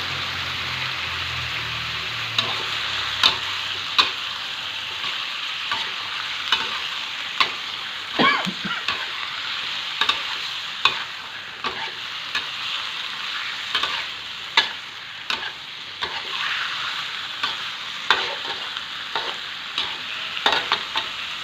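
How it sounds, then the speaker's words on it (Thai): Eel stir-fried with fragrant aromatics in a hot pan, a steady loud sizzle lasting throughout, punctuated every second or two by crisp spatula scrapes and knocks against the pan. "ผัดเครื่องหอมๆแล้วก็ปลาไหลใส่ครับพี่น้อ ง"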